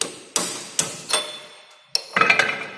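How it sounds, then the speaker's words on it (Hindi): A hammer striking a slanted chisel driven into a drill machine's socket to knock it out, four or five sharp metallic taps, close and moderately loud, spaced unevenly with ringing tails. "जो इस चीजल को इसके अंदर घुसा करके फिर हम इसे मारेंगे"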